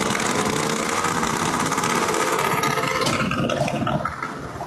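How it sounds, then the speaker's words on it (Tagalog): A loud motorcycle engine roars continuously nearby on New Year's, a rough buzzing drone with rattling vibration that eases slightly near the end. "Ang ingay ng motor."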